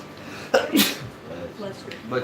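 One sharp sneeze bursts out amid people talking during a live tabletop role-playing session.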